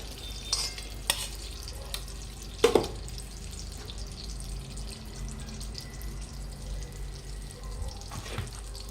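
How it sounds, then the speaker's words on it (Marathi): Wheat flour roasting in ghee in a pan over medium heat for fenugreek laddoos, with soft scraping stirs and a few sharper clinks of the spoon over a quiet, low sizzle. "अजून तूप टाकून घेऊया. अशी आपण दुसरी बॅच भाजून घेऊया."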